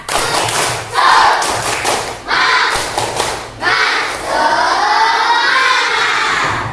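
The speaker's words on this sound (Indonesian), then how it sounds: "Coba tepuk semangatnya kalau memang benar-benar semangat pagi ini." Students in an Indonesian school class doing a rhythmic morning spirit clap chant, bursts of loud clapping and thumps mixed with group shouting, three sections separated by brief pauses, close and energetic.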